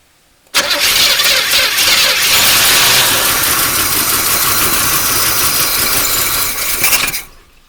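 A 1981 Chevrolet El Camino V8 that sat for 21 years starts up and runs for about seven seconds, a loud rough idle with a slight misfire, then the sound cuts off.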